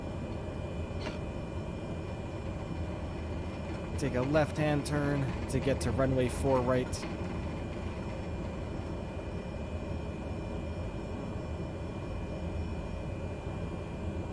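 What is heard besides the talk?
Cessna C208EX turboprop engine in Microsoft Flight Simulator video game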